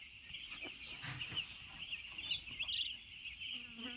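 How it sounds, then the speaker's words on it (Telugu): Young chicks cheep in a faint, continuous high-pitched chorus of overlapping peeps, with scattered soft rustles beneath. "మా కోడి పిల్లలు బాగున్నాయి"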